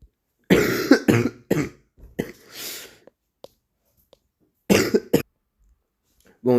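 A person coughs in close, harsh bursts, several clusters of two or three coughs separated by quiet pauses, with breathy throat noise between them.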